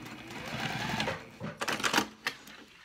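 Sewing machine stitching through the top of a two-tone cork bag, a steady whirring run that breaks into short uneven bursts as the fabric is adjusted near the end.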